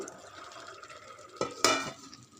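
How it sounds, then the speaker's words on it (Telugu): Fried okra pieces are gently stirred into a yogurt curry, soft wet stirring with a couple of sharp clinks of the spoon against the pan near the end. "బెండకాయ ముక్కలు వేసి నిదానంగా కలుపుకోవాలి"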